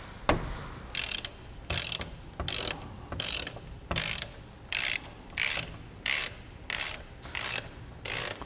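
A SATA ratchet socket wrench loosens a car's spark plug in a series of about twelve evenly spaced, crisp clicking ratchet strokes, close and loud, after one sharp initial crack.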